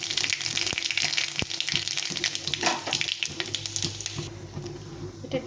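Cumin, radhuni and a dried red chili sizzle and crackle steadily in a little hot oil, a close, continuous frying hiss with scattered pops that drops away slightly near the end.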